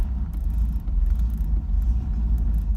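Mercedes-Benz 190SL engine with the choke in, throttle flipped repeatedly, giving a loud, close low rumble that swells and dips in a steady run of revs with no talk.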